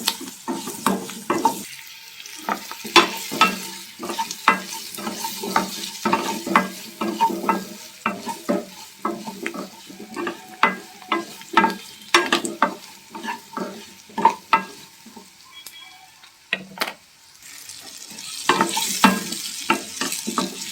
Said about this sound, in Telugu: ఇప్పుడు ఈ చిన్న ఉల్లిగడ్డలు వేసుకోండి. అంతా ఒకసారి బాగా కలపండి